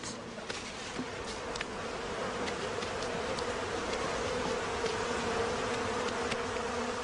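A swarm of bees handled by firefighters and tipped into a box, producing a steady, dense buzzing drone throughout, close and continuous with no speech.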